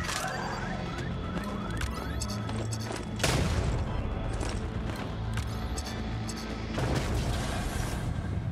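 Gunfire from a first-person shooter, Void Bastards, comes as dense rapid shots and booming impacts with heavy bursts near 3 and 7 seconds, mixed with game effects and music under a continuous wash of noise.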